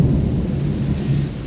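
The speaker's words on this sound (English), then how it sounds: "Thunder still booming." Deep rumbling thunder rolls continuously through a severe thunderstorm, a loud, sustained low boom with rain hissing faintly underneath and no one speaking.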